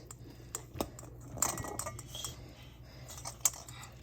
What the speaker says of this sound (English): get that in the bowl with the turkey. Give it a bit of a mix round.